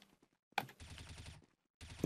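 Counter-Strike: Global Offensive gunfire: a sharp shot followed by a rapid automatic burst lasting under a second, then another shot after a brief silence.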